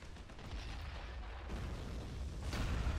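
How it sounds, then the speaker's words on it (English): Heat-seeking missile launched during a battle in a Warhammer 40k mod video game: a continuous loud roar of blasts and rumbling fire, swelling louder toward the end, with no talk. "It's like a heat-seeking missile thing. That's the first time I see any of those ever being fired in this battle."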